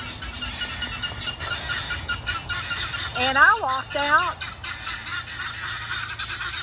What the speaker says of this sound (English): There's buzzards flying over, and those guineas are having a fit.